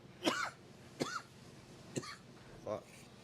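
Four separate coughs, spaced about a second apart, each a short harsh burst with a rough tail.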